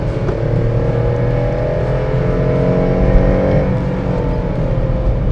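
A Volkswagen Ameo engine revs hard and rough on a downshift, droning loudly and steadily with a throaty, strained tone throughout, no voices.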